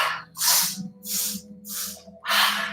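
Slow, deep exhalations during an evening yoga flow, four long airy breaths out spaced a little over half a second apart, close and clear with no talking.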